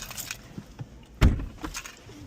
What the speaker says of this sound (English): You're going to squeeze and then you can lift up on the Mclaren doors.